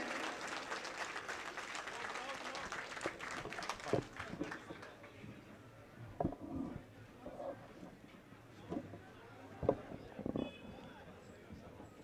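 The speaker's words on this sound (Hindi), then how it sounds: "जबरदस्त तालियां बजनी चाहिए पीछे तक, और तेज ताली बजनी चाहिए।" Crowd applause at a BJP youth wing event welcoming the state president, a broad wash of clapping from a large audience under a loudspeaker announcer's voice urging louder claps.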